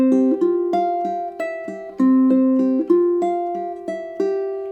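Fingerstyle ukulele picking a riff, a bright, close run of plucked notes in a steady repeating pattern, clean and with no talk.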